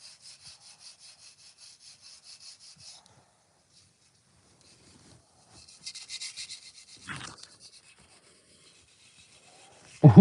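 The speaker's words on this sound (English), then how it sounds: "I'm just sanding pots" Rhythmic rasping strokes of sanding ceramic pots, a steady back-and-forth scrape, pausing, then returning in a rougher burst, with a brief thump at the end.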